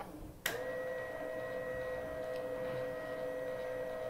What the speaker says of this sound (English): And you can tell it's really not that loud for a jack, so it just moves really nice and easily.